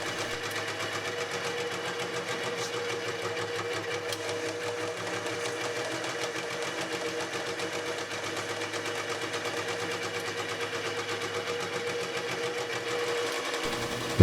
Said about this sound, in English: Here we are balancing the crank itself.